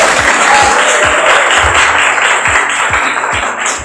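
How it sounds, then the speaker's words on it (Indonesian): Audience clapping at a business presentation, a dense, steady applause that fills the whole stretch at fairly high level with a few low thumps beneath. "tepuk tangan Bapak Ibu"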